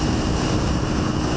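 An F/A-18 Super Hornet fighter jet flies over with a loud, steady, broadband engine roar that stays constant through the short stretch, with no voices.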